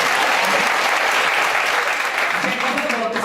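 Audience applause at an indoor talk, a dense burst of clapping from a crowd, loud and continuous for a few seconds.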